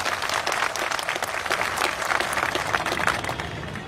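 A rally crowd bursts into sustained, dense applause, many hands clapping loudly and evenly throughout with no pause.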